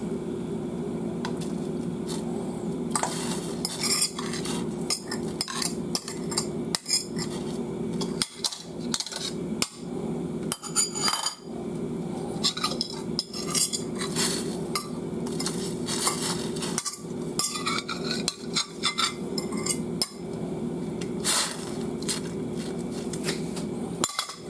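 A utensil stirs chicken and egg ramen in a pot of boiling water, giving repeated clinks and scrapes against the pot over a steady low hum, irregular in rhythm and fairly close.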